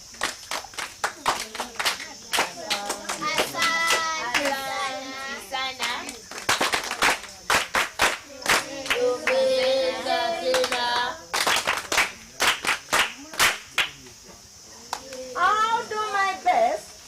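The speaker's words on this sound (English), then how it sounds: "Then clap for yourself." A group of scouts at a camp site claps for themselves in bursts of hand claps, loud and close, alternating with a leader's speech and children's voices responding.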